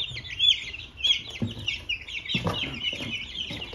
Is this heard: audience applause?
no